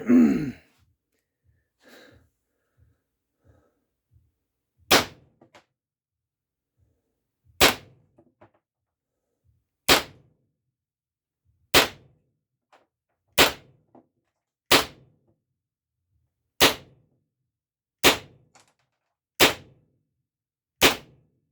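A CO2 air pistol fires coated steel BBs, eleven sharp, loud cracks spaced about one to two seconds apart until the gun is empty, with faint handling noises and a breath before the first shot.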